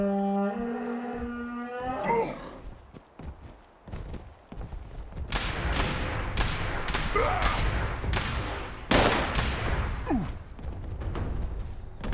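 Shotgun blasts in the video game Fallout 76 fire in a rapid, irregular series of loud, sharp bangs, following a sustained tonal sound at the start.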